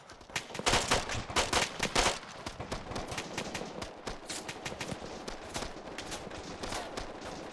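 Rapid gunfire in the Arma 3 video game during a co-op mission, dense bursts of shots crackling loudly at first, then continuing as steadier, slightly softer volleys, with no talking.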